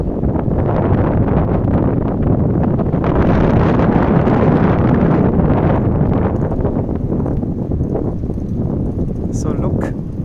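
Ice-cold winter wind sweeps an empty street in Medjugorje, a loud, steady roar buffeting the microphone throughout.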